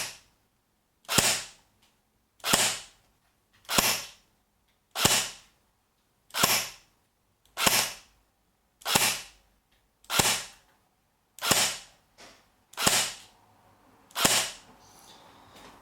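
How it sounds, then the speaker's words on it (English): A Force Core Spectre airsoft SMG, run on a stock 8.4 volt NiMH battery, fires single shots as about a dozen sharp, evenly spaced cracks roughly one second apart, close and crisp, with quiet between each shot. "So let's do single fire. Let's see how many FPS can we get from this gun."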